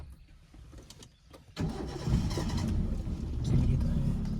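A car engine cranks and catches, then settles into a steady, rumbling idle that grows slightly louder, heard up close inside the vehicle with faint voices at the start.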